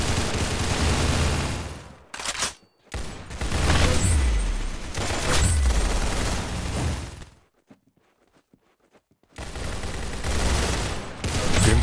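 Rapid gunfire from the video game Arsenal rings out in loud, dense bursts with short breaks, then stops for about two seconds of near silence before another heavy burst.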